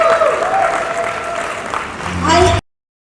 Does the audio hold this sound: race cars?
no